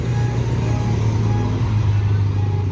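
A Mior tour bus arriving at the Barai Solo bus terminal gives a close, steady low engine rumble that stays even throughout.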